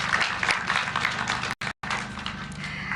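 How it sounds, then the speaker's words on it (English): Broad, dense patter of many hands fills the hall as an audience applauds teachers at a KCPE 2023 results release event in South B, steady throughout with two abrupt brief dropouts near the middle. "Please let us applaud our teachers."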